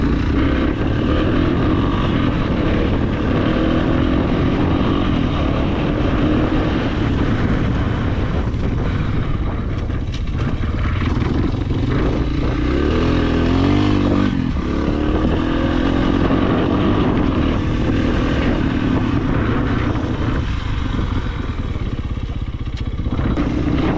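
A motorcycle runs close and loud, its engine droning steadily with shifting pitch as the bike is ridden, wind buffeting throughout and no talking.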